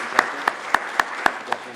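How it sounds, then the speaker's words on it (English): Applause for panelists at the close of a conference session on electric mobility, heard as about six slow, evenly spaced, sharp handclaps, close and distinct over a quiet room. "a round of applause to all the panelists"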